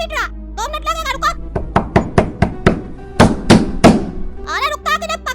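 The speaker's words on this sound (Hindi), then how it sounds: "अरे रुकता कि नहीं पागल, पीटता जा रहा दरवाजा" Fists bang on a train compartment door in an animated haunted-railway story, roughly ten loud, close thuds in an irregular run between stretches of talking.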